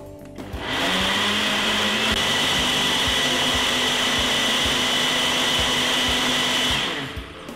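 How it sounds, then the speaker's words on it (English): A blender whirs loudly and steadily as it blends an overripe banana smoothie with ice cream, starting up abruptly, holding a constant roaring drone for about six seconds, then cutting off. "we're gonna blend this roughly about 3 seconds"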